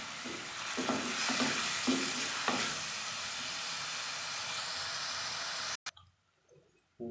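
Onions sizzling in a frying pan while being browned for a desi-style omelette, with a continuous close hiss and a few stirring scrapes early on, before the sound abruptly drops near the end.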